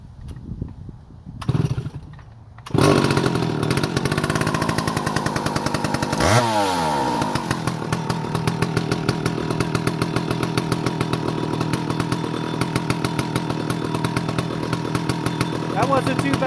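A Stihl 075AVE chainsaw is cold-started with the throttle locked and choke on, catching after a couple of pulls and then running loud and close, with a rev swell before settling into a steady, chattering idle.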